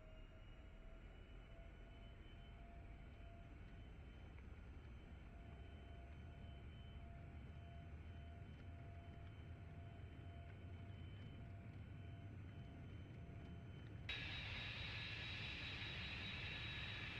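An airliner taking off in the X-Plane 11 flight simulator, a steady, low engine rumble and whine under a faint cabin hum, with the engine noise swelling brighter and louder near the end as thrust comes up.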